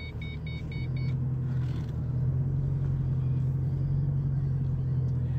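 A 2005 Ford Mustang GT drives along with a steady, low engine drone and road rumble, heard from inside the car. A few faint high beeps sound near the start, and no one talks.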